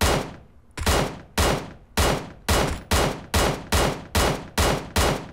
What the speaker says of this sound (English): how fast you can shoot, basically how much firepower can you put out with this marksman rifle